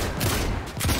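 Gunfire from a new gun in the video game Fortnite, a pair of loud sharp bursts close together, each with a deep low thump, over a steady dense game background.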